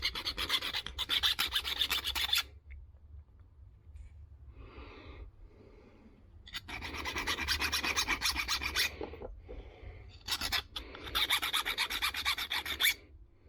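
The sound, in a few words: filing a circuit board with a file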